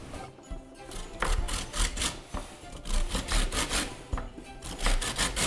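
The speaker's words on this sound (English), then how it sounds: "I'm going to start mixing all the dry ingredients" Dry ingredients for vegan panettone being mixed by hand in a bowl, a close, repetitive scraping and rubbing with irregular strokes and a few soft knocks.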